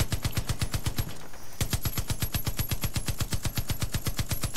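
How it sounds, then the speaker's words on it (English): A .50 caliber M2 heavy machine gun fires in Far Cry 5, a long steady stream of loud, rapid rounds with a brief pause near the start, then sustained automatic fire. "But I love 50 caliber machine guns."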